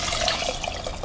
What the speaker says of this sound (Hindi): देखो राजमा अच्छे से मिल गए हैं और बॉयल भी हो गए हैं, तब इसमें हम पानी डालेंगे